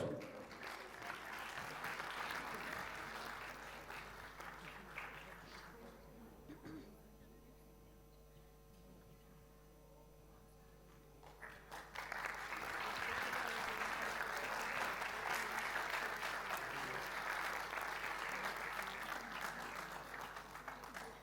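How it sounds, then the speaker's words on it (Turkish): An audience at a piano recital applauds warmly for a student pianist, a dense roomful of clapping that dips midway, then swells back up and carries on steadily to the end. "Evet şimdi bir diğer öğrencimiz alkışlarınızla Ertuğrul Ketenci geliyor."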